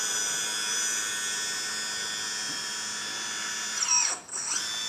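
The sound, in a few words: RC hydraulic dumper bucket moving on 8x8 metal chassis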